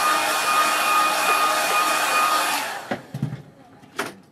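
A hair dryer blows steadily and loudly on a watercolour painting of sheep on Dartmoor, then cuts off, leaving a few faint clicks and taps.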